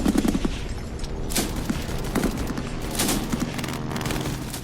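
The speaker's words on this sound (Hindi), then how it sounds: "गोलियां चलने की आवाज के साथ ही कुछ लोगों के चीखने की आवाज सुनाई दे रही है।" Gunfire sound effect from an audio drama about an army war: loud, dense bursts of rapid shots and booms that roll on continuously, with no talking.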